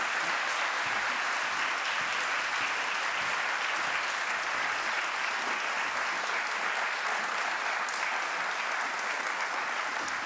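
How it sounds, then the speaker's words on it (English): Sustained audience applause at a university justice, equity, diversity and inclusion event after a talk, dense and even clapping from a large crowd filling ten seconds without letup. "I'm like pushing all of the claps to Betsy."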